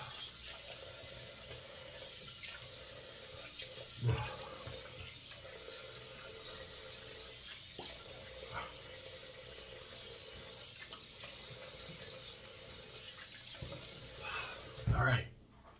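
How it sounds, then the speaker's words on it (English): Steady running tap water from a sink faucet while a face is rinsed after a shave with a Merkur 34C razor, a continuous hiss with a few brief splashes, close and moderately loud. "rinse the face."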